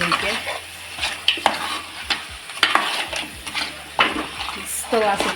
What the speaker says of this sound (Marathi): आता आपण याच्यामध्ये चिंबोळी टाकणार आता व्यवस्थित मिक्स कर